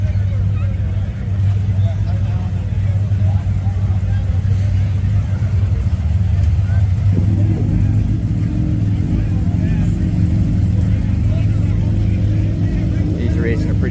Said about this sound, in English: Buddy of mine's drag racing his Chevy Love for the first time.